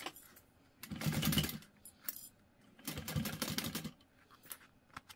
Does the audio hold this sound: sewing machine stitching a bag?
yes